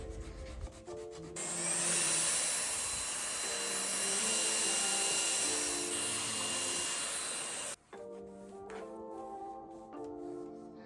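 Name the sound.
sanding a small wooden cabinet between primer coats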